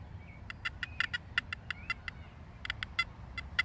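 Short electronic chirps from a Makro Kruzer metal detector in 4-tone mode with gain at 90 repeat in irregular bursts, some doubled or tripled, over a low steady rumble; faint sliding whistle tones appear between them.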